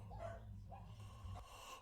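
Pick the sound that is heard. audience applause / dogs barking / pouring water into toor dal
dogs barking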